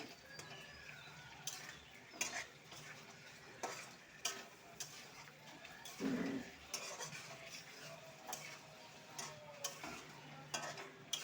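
Fish curry masala with chili powder being sautéed in a pan, a soft sizzle under irregular stirring scrapes and light ticks, faint and distant-sounding with no talking.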